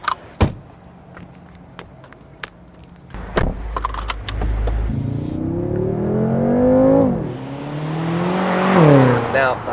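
A BMW M5 accelerates hard on the road. A few clicks and knocks come first, then the engine note climbs in two strong, rising revving pulls, loud and close.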